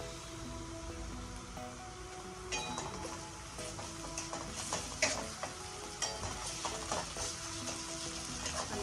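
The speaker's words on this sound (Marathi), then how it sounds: "पेस्ट चांगली परतून घेऊया।" Ginger garlic paste sautéing in a pan after browned onions, for paneer butter masala: a steady sizzle with a spoon stirring and occasional clinks against the pan, close and continuous.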